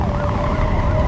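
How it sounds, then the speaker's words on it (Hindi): A police car siren wails with a steady rising and falling tone over a rumbling vehicle, loud and close in a brief burst. "तभी अचानक पीछे से पुलिस की गाड़ी की आवाज सुनाई देती है,"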